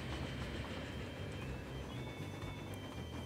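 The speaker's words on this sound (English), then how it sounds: "See, this train's coming in." A train pulling into a station in the rail-management game Transport Fever, a steady low rumble with faint rhythmic clatter and a few thin high squeals, even and moderately near, with no voices.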